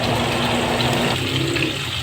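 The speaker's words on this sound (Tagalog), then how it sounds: "lagyan natin ng tubig para lalong mapalambot ang pork" Water pours steadily into a cooking pan of pork binagoongan with sautéed tomato and shrimp paste, a continuous close splashing rush that lasts the whole moment and changes tone partway as the liquid level rises.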